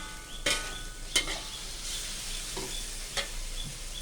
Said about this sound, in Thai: ผัดลงไปก่อนเพื่อน